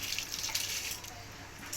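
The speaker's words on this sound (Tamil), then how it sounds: "அந்த அரிசி தண்ணியோடய ஊற்றிக்குவேன்." Rice soaking water pours into a biryani pot in a steady splashing stream, close and moderately loud, with small bursts of splashing and no talk.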